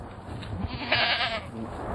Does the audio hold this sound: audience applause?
no